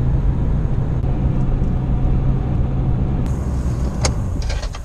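A car rolls along a highway on a road trip to South Dakota, a loud steady interior road and engine drone with a few small clicks and rattles.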